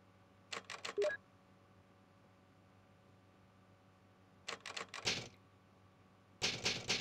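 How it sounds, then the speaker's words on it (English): Typewriter keys punched in three short bursts of a few rapid clacks each, separated by quiet, in the save room of the video game Resident Evil; close and crisp over a low steady hum. "She's just punching the typewriter."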